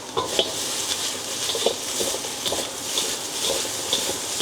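Chopped garlic being stirred in a pan for a seafood stir-fry with oyster sauce, a steady hiss of frying under repeated soft scrapes and light clinks of the utensil.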